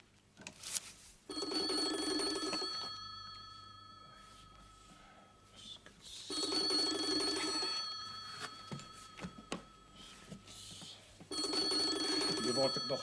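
A telephone bell rings in three long, even bursts with pauses between them. Faint voices and room noise fill the gaps.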